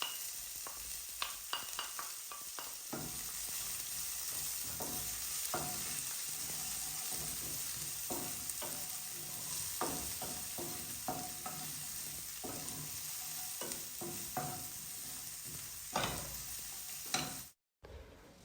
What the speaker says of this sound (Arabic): الزيت راح احط بصل وثوم فلفل.